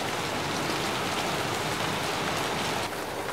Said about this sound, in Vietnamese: Tự nhiên trời đang nắng chang chang mà mưa xuống một cái mà cũng mát quá ha